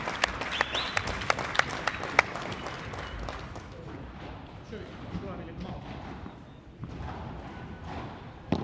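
Audience applause at a padel tournament, with sharp scattered claps early that soften into a steady, moderate patter while a commentator talks over it.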